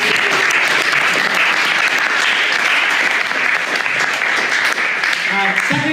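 Sustained audience applause closing an AI agents hackathon, dense steady clapping filling the room throughout, loud and close, with a few faint voices near the end.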